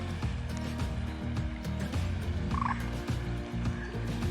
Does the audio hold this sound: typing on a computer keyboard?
no